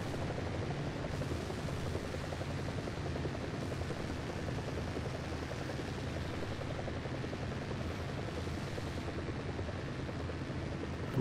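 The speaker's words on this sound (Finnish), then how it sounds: "Tuolla on helikopteri." A helicopter in the combat video game War Thunder gives a loud, continuous rotor and engine drone throughout, steady and close, with no talking.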